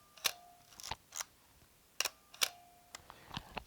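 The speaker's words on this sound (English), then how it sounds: "push down on the shutter release to take a picture" Camera shutter release clicking as pictures are taken, a few sharp mechanical clicks in pairs with short gaps between, close and crisp against a quiet room.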